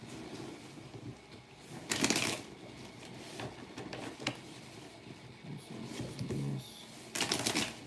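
A tarot deck is shuffled in a couple of quick riffling bursts, with softer handling and light tapping sounds in between.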